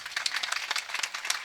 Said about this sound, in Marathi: टाळ्या वाजत राहा